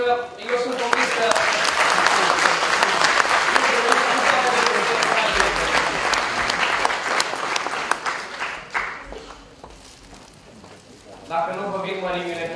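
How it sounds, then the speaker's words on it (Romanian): An audience at a school sports campaign award ceremony bursts into dense, loud applause that holds steady for about eight seconds, then fades out, leaving quieter background noise. "Putem să-i aplaudăm"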